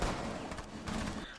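Gunfire in Rainbow Six Siege, a short, dense burst of shots filling the moment with loud, rapid cracks over game background noise.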